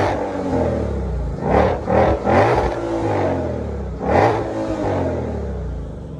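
Revving engine of a cammed Corvette ZR1 or a tuned 2020 Shelby GT500, rising and falling in repeated loud blips with a deep rumbling idle in between, heard close with no talking.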